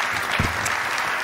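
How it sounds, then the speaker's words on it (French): An audience at a conference on intercommunal democracy claps warmly, a dense, steady burst of applause heard up close. "Je propose qu'on les applaudisse chaleureusement."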